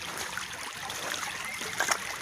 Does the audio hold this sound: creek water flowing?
yes